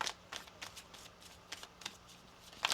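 Tarot cards are shuffled close up in a quiet room, a string of soft, crisp riffling bursts at an uneven pace.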